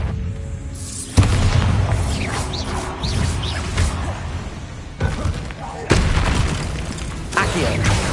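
A Bombarda blasting spell goes off in Hogwarts Legacy, giving several heavy booming impacts with rumbling debris, each striking suddenly and loudly with a lingering tail, while a voice speaks between them.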